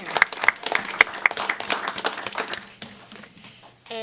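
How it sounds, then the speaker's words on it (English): An audience at a county board of commissioners meeting gives a burst of clapping for employee service awards, dense and lively for about two and a half seconds before thinning out into scattered claps and room noise. "We can have a round of applause."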